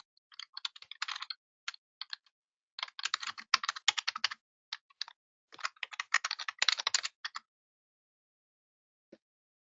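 Keys tapped on a computer keyboard while searching patient records, clicking in quick bursts with short pauses between, close and clear with no talking.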